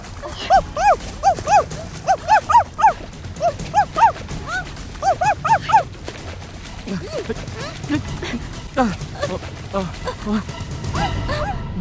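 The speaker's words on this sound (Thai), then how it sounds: "ขอบใจมากนะเจ้าฮอนที่ช่วยเห่าเตือน" A dog barks in a warning near a spot where a child has fallen into water, with loud repeated bursts of barks and yips for about six seconds, then a mix of voices and lighter yelps.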